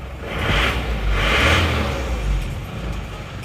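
A car engine, recently overhauled at a repair workshop, runs steadily at close range with two brief revs rising and falling over the idle, no voices.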